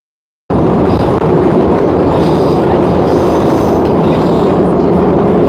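A train rumbles steadily and loudly, a continuous rolling roar with faint metallic rattle running throughout after a brief silent start.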